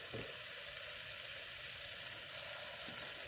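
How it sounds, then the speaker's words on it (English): Salmon sizzles steadily as it is laid into hot butter in a pan for pan-seared lemon garlic salmon, a continuous bright frying hiss with a soft thump at the start. "Now we're gonna add the salmon to this butter to get all this flavor."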